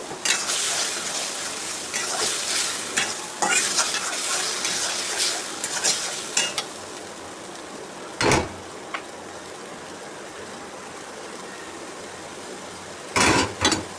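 Hilsa fish with spices being stir-fried and broken up in a pan for a jackfruit curry, with scraping and clinking of a utensil against the pan over a steady sizzle, close and fairly loud, then quieter with two brief clatters.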